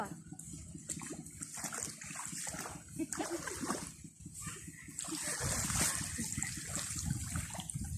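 Someone wades into muddy rice paddy water for transplanting, producing soft continuous splashing and sloshing that grows fuller midway, fairly quiet with faint voices in the background.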